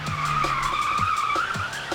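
Cartoon car tires screech in a long, sustained skid during a chase, loud and continuous with no voices.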